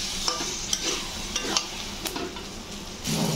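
Taro pieces fry in a pan with turmeric and a splash of water, giving a steady close sizzle broken by occasional scraping clicks of a stirring spoon.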